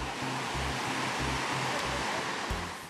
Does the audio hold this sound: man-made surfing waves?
yes